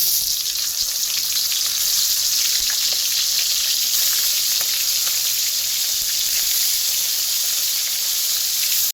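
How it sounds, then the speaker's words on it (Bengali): Cleaned prawns frying lightly in oil in a wok for a prawn malai curry, a steady bright sizzle and hiss continuing evenly throughout, close by, with no voices. "একটু হালকাভাবে ভেজে নেব"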